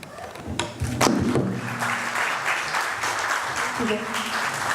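Applause from an audience at an Igbo ambassadors conference, with scattered claps and a few thumps building into steady clapping as a speaker talks over it.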